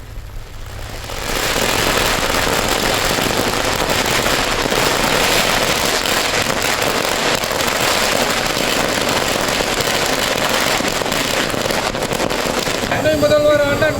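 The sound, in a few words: firecrackers bursting at political celebration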